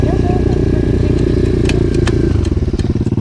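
An SSR 125 pit bike engine runs loud and steady with dense low harmonic drone while climbing a trail, rising briefly with a whine, then chugging in pulsing thumps near the end, with voices talking over it.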